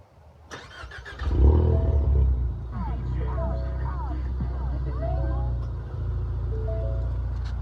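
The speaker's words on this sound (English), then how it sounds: "we'll go ahead and do a warm start because I just got home" A 2019 Ford Mustang EcoBoost with muffler and resonator delete warm-starts with a crank and loud flare, then settles into a raspy, droning idle close by, with a voice talking over it.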